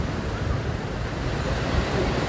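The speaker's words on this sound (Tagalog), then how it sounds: "Ngayon nandito ako sa beach ng Pattaya, Thailand." Sea waves at Pattaya beach, Thailand, wash in a continuous low surf roar with a soft breezy hiss, heard alone and fairly steady.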